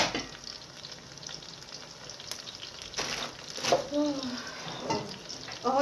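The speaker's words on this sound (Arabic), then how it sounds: "اهو دي طريقه عمل البتنجان المقلي بتاعنا" Eggplant fries in hot oil, giving a steady soft sizzle with a few clinks and movements. A voice speaks briefly near the end.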